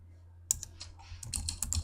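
Quick bursts of key presses on a Mac keyboard as a folder name is typed and a Shift-Command shortcut is entered, close, light clicks in short uneven runs.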